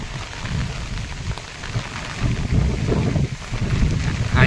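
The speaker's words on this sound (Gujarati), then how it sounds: "આજે ફૂલ વરસાદ હતો અમારે અહીંયા રીંગમાં પાણી ભરાઈ ગયું" Heavy rain pours down during a downpour that has flooded a ring area with water, a loud, continuous wash of drops with low rumbling swells throughout.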